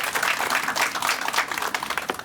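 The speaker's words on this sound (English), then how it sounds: "So they deserve a round of applause." An audience at a civic event applauds, with dense, continuous clapping that rises and falls in waves, close and loud throughout.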